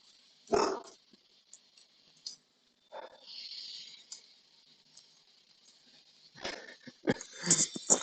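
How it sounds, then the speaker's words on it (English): A pet dog indoors lets out a single sharp bark near the start, followed by quieter whimpers, snuffles and a few faint yelps scattered through the rest. "he lets out one bark, and then he usually scares himself as a result"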